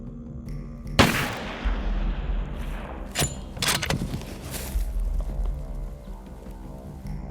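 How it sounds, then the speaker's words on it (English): A single loud rifle shot cracks out during a hunt, followed by rumbling echoes and a second sharp bang with reverberation in the open air. "I'm just going to put the crosshairs right where I think they belong and touch it off"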